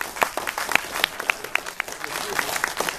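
Applause from the audience at an international heavy metal and popular culture conference, a busy crowd of hands clapping with sharp individual claps standing out, steady and moderately loud throughout, with faint crowd murmur underneath.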